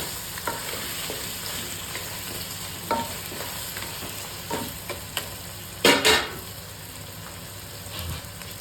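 Crab pieces being mixed with salt and turmeric powder in a pan for Mangalorean crab sukka, with scattered soft scrapes and stirring clacks over a steady sizzle, and one louder rattling burst near the end.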